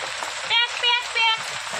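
Heavy rain hisses steadily close by, and a voice cuts in briefly three times over the patter.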